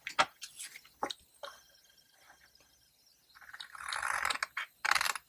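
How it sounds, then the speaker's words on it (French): Cutting along drawn lines: a few sharp snips and clicks, then a sustained rasping, scraping stretch of cutting near the end, close and fairly quiet. "Et là, on découpe les traits qui sont ici."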